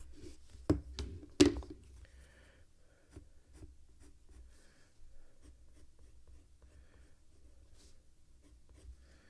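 Colored pencil strokes scratching across paper, a couple of louder taps early on, then a steady faint scribbling texture continuing close to the mic with no talking.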